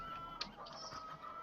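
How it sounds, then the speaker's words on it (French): Bresse chickens clucking in a farmyard, a few short clucks that stay fairly faint under a steady background hiss. "Donc les poulets de Bresse"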